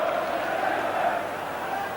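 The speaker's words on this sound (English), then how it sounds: "the crowd joining in to lift the occasion" Football crowd at the 1990 FA Cup semi-final between Crystal Palace and Liverpool, a steady roar of massed voices rising slightly, heard under a commentator talking.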